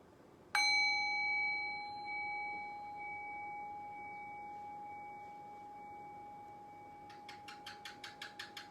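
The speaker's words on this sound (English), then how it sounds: "Allow the sound of the bell to fade, and your thoughts to fade along with the sound of the bell into silence." A meditation bell is struck once, ringing out a clear, sustained tone that slowly fades over several seconds in a quiet room. A quick series of faint rattling clicks follows near the end.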